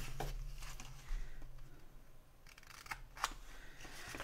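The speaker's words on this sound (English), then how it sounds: "what I'm going to do is I'm going to cut up here" Scissors snip through a strip of thick double-sided tape during a journal-making craft session, giving a few sharp cuts spread over several seconds, close and fairly quiet against a soft room background.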